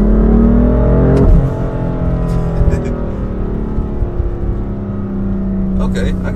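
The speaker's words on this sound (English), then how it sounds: "I'm just driving this thing like a manual, man." A car driven with paddle shifters revs loudly inside the cabin, the engine note climbing then dropping sharply as a gear changes, followed by a steady drone with road noise and someone talking over it.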